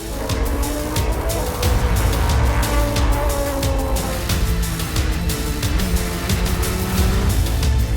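Ferrari and Porsche endurance race cars roar past at Portimao, engines loud and sustained throughout, with rapid gear-shift bursts and tyre noise layered over a dense, continuous racing din.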